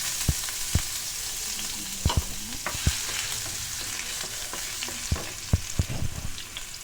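Ginger sizzling in a frying pan in an outdoor kitchen, a steady hiss of hot oil broken by sharp clicks and taps of a utensil stirring against the pan.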